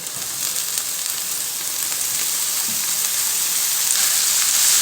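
Cabbage sizzles and crackles in a hot pan with fried onion, a steady, bright frying hiss that grows slightly louder toward the end.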